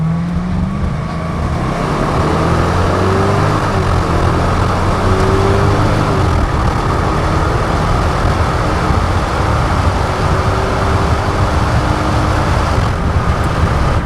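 A 2004 Ford Thunderbird's 3.9-litre, 280-horsepower engine revs hard under full throttle, pitch climbing through gear changes, loud and close over steady road roar.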